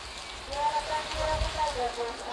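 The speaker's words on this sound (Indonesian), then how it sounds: "sebagian penumpang menunggu di dalam gedung karena di luar hujan" Steady rain falls outside a bus terminal, a continuous hiss of drops on hard surfaces with faint tonal sounds drifting through it.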